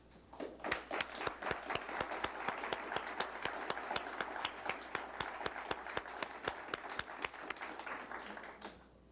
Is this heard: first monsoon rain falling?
no